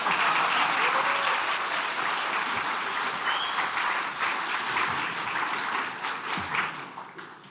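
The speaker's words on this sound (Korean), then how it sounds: "우리 한 번 더 뜨겁게 박수하십시다." Audience at an evening church revival meeting applauding warmly, a sustained roar of many hands clapping that stays loud for several seconds, then thins and fades toward the end.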